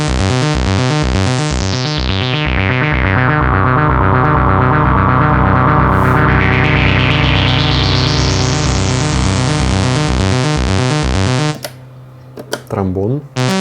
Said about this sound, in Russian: Туба звучит вот таким образом.